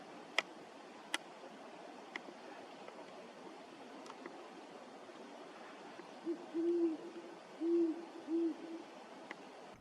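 Great horned owl hooting outdoors in a series of low, soft hoots at moderate distance, repeated in short groups over steady background noise with a few sharp ticks.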